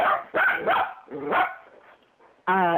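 Small dogs bark in a quick, excited burst of sharp yips, then pause briefly before one last loud bark. The barking is close, with no talking.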